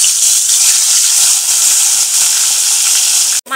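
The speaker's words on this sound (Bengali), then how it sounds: "তেল গরম হয়ে গেছে, এবার তেলের মধ্যে দিয়ে দিচ্ছি মাছ।" Hilsa fish sizzles loudly in hot oil in a pan with ginger and garlic paste and green chillies, a steady, close, dense hiss that fills the whole stretch, broken by one brief clatter near the end.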